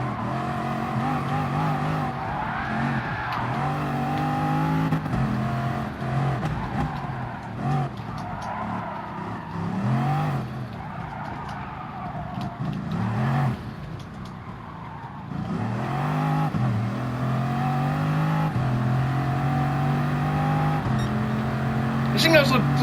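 A fast car accelerating hard on a track, the engine note climbing through the gears in repeated rising sweeps, loud and close throughout, with someone talking over it.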